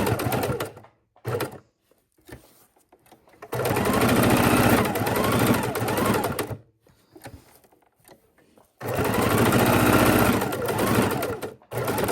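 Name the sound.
sewing machine stitching in the ditch around potholder block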